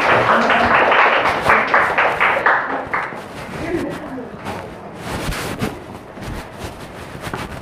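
A church congregation at a Sunday service claps to welcome performers, loud and dense at first, then thinning into scattered claps while a voice speaks over it.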